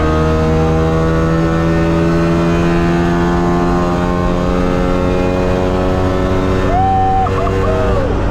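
A Trabant 601 RS rally car's small engine drones loud and steady at high revs throughout, a constant buzzing roar with a brief pitch shift near the end.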